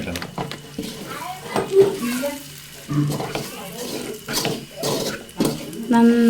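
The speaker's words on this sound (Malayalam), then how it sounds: "നന്നായിട്ട് ഇളക്കണം കേട്ടോ." Food stirred and frying in a home pan, a soft sizzle with scraping and clinks of utensil on metal, heard close under intermittent speech and background household noise.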